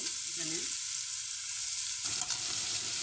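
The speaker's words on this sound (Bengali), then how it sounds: "চিংড়ি মাছটা আমার ভাজা হয়ে যাবে।" Shrimp frying in a pan, a continuous close hiss of sizzling oil that holds steady throughout, with a brief scrape of movement partway through.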